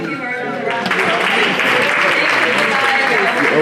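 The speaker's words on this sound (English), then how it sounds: "Please give her another round of applause." Audience applause at an African Immigrant Heritage Month event, a steady dense clapping that swells after a brief quieter start and holds at moderate loudness to the end.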